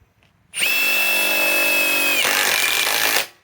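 A Metabo HPT WH18DC triple hammer cordless impact wrench runs in one loud, sustained burst of about two and a half seconds, starting with a high motor whine and then shifting into hard, rapid hammering before it stops abruptly.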